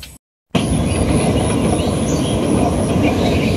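Inside a moving passenger train, a steady broad rumble of wheels and carriage noise sets in after a short silent gap and keeps a constant loudness, with a faint high whine running above it.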